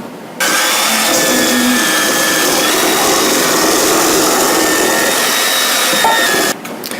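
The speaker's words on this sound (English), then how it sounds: "So we're going to cream the shortenings and then add the sugar." Stand or hand mixer beating Crisco shortening with butter for banana bread batter, a steady loud whirring drone that starts abruptly, runs continuously for about six seconds, then cuts off.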